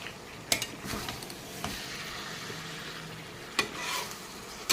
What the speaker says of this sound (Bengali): এখন আমি আবার ঢাকাটা তুলে মেটে নেড়ে চেড়ে দেবো।